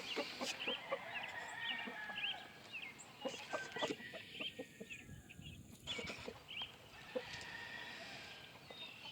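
Large fowl black leghorn chickens in a brood pen cluck and chatter in a steady, busy stream of short calls, with other birds chirping in the background.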